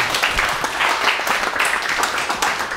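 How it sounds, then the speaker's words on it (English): Brief burst of dense audience clapping at a London masterclass talk, welcoming a speaker named Damian to the stage. "ladies and gentlemen, big round of applause for Damian"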